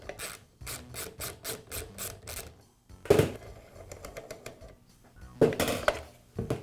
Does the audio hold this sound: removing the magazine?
yes